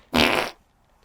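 A single short, loud, buzzy fart lasting under half a second, close and alone, followed by near silence.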